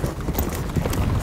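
Hooves clip-clopping as a young horse is ridden under saddle on its first ride out, sixteen days into training: soft irregular thuds close by over continuous outdoor noise, with no talking.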